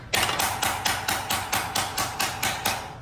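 A hammer strikes a metal panel on a wooden stump in a steady rhythm, about eleven sharp ringing blows close by, evenly spaced and loud, knocking down high spots.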